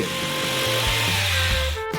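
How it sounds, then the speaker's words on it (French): An electric jigsaw cuts through plywood with a steady buzzing whine, the motor pitch shifting as it bites, close and loud, no voices. "vous devez couper le contreplaqué pour les parois avec une scie sauteuse électrique"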